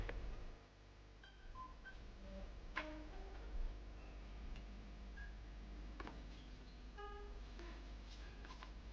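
A telephone is dialed, a string of short, separate tones ringing out at different pitches over several seconds alongside faint clicks from the handset, all over a low hum and quiet room noise.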